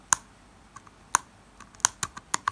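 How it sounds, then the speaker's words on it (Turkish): Logitech M590 mouse on/off button clicked several times, sharp small clicks spaced irregularly, close and quiet with no talking. "Açma kapama butonunun sesini de merak ediyorsunuzdur belki."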